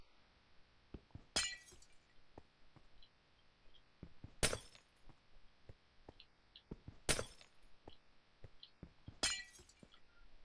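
Glass blocks shattering in the Minecraft OceanBlock modpack, four sharp bright breaks spaced a few seconds apart, with soft clicks and faint game ambience between them.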